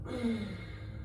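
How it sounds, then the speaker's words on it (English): A single soft, audible exhale through the nose or mouth during a twisting yoga flow, close and quiet, with no speaking. "Breathing out."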